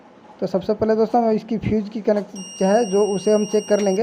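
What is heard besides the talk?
multimeter beep in continuity mode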